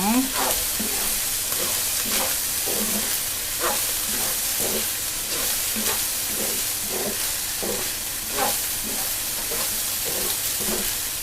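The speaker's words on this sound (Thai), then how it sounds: "เอาปลาลงเลยค่ะ ปลาสลิดลงเลย แล้วก็คนเลยค่ะ" Fried rice is stir-fried dry in a hot pan with crisp fried snakeskin gourami fish. A steady, loud sizzle carries on throughout, with rhythmic scraping and tossing of the stirring, and no one speaks.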